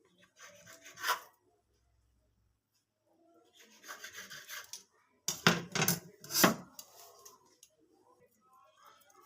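Small portions of wheat-flour dough for homemade bread are rolled into balls by hand on a surface, making intermittent soft rubbing and scraping bursts separated by quiet pauses.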